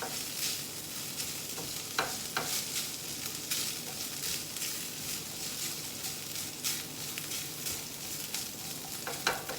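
Ground, crumbled pork sautéing in a pan for stuffed mushrooms, a steady close sizzle and crackle with occasional sharper spatters and utensil stirs, no talking.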